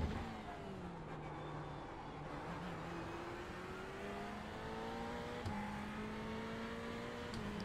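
Ferrari GT3 race car engine droning steadily at speed in a racing video game at Road Atlanta, with gradual pitch rises and shifts through the gears and no voices.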